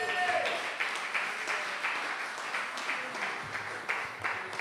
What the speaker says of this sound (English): Give the Honorable Akila Byron another round of applause